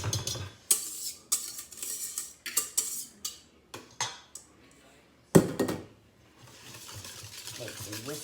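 Whipped cream being whisked into chocolate eclair filling in a bowl, a series of quick rhythmic whisk strokes and scrapes against the bowl, close and fairly loud, with a pause before a final burst of mixing.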